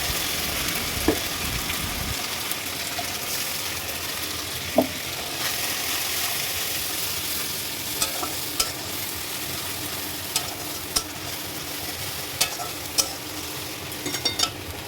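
Spice paste and onions fry in a pan for mutton curry, giving a steady sizzle with occasional scraping taps from a stirring utensil, close and continuous throughout.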